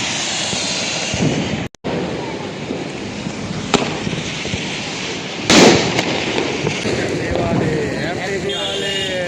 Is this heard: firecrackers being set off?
yes